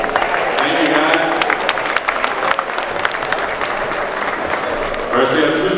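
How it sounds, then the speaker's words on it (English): Crowd applause at a girls' basketball tournament, steady clapping and cheering filling the gym for several seconds, with voices mixed into the noise. "Have a big round of applause for Loyal Greyhounds."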